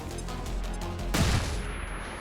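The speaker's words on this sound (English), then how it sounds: "we throw flashbang" A flashbang going off in the video game XCOM, one sudden loud burst after about a second that decays into a fading rumble and a high ring over steady game ambience.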